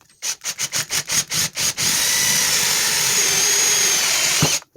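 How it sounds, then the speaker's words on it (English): A power drill revs in a quick series of short bursts, then runs in one steady, loud, high-pitched whine as it bores two holes through a wooden sword blank held in a vise. "Now from here, we're just going to drill 2 holes."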